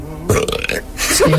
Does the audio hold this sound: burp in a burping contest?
yes